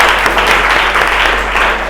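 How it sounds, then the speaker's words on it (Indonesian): Classroom students give a round of applause for a presenting group, dense close clapping that fills the whole moment without pause. "Kasih tepuk tangan untuk kelompok 1"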